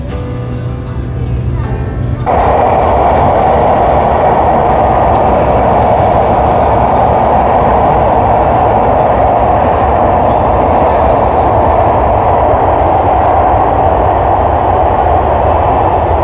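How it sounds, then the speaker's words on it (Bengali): A train crossing the Padma Bridge rumbles loudly and steadily, with a continuous roar and faint rhythmic clatter; voices are barely audible beneath it. "পদ্মা সেতুর উপর দিয়ে ট্রেন যাচ্ছে"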